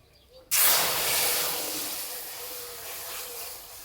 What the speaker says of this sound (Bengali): এবার দেবো গরুর দুধ।